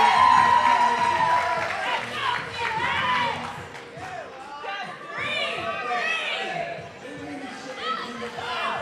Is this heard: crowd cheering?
yes